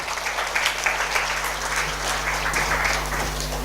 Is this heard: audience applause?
yes